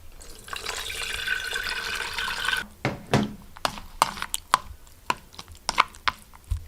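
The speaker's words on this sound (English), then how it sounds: "I'm gonna run some cold water" Cold tap water running in a cabin kitchen, a steady gushing stream for a few seconds, then stops, followed by scattered drips and clunks as strained pickling vegetables are handled.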